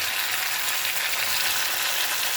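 Tomatoes and other ingredients for a Kongu-style tomato curry sautéing in a pan, a steady, close, broadband sizzle heard alone with no talk.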